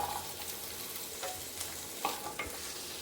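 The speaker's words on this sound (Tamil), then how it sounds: "வெங்காயம் போட்டுக்கலாங்க" Onions dropped into hot oil for an egg curry masala, hissing in a soft, steady sizzle with a few light stirring scrapes, close but fairly quiet.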